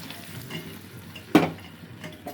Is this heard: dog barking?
no